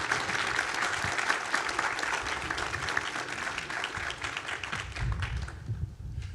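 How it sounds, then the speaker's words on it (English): An audience applauds continuously after a conference session, a dense, even wash of many hands clapping that holds steady and then thins out toward the end. "can we have a round of applause for our session today?"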